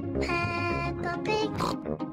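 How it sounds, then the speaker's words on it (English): The cartoon character Peppa Pig oinks in the Peppa Pig Sports Day mobile game, a run of several bright voiced snorts and grunts in quick succession, close and clear. "Peppa Pig."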